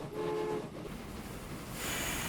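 A train in the Train Fever game pulls into a station, with a steady rail rumble, a brief horn-like tone early on and hissing brakes toward the end, heard alone.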